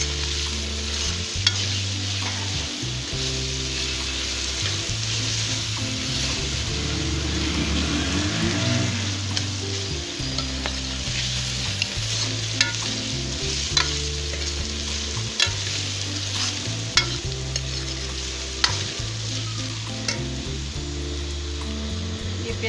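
Garlic ginger paste, one teaspoon, frying in a pan while being stirred, with steady sizzling and scraping of the spoon throughout, close and continuous with no talk.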